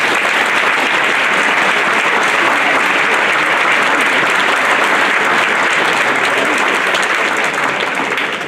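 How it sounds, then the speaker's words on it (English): Audience at a high school senior awards ceremony breaks into sustained, loud applause, a thick continuous roar of clapping that holds steady for the whole stretch and tapers slightly at the end. "Let's give these students well-deserved applause for all of their hard work throughout high school."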